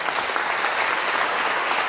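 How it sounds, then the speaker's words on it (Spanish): A church congregation applauding, a dense, loud, even wash of clapping that holds steady throughout without voices. "Den un fuerte aplauso a Jesucristo."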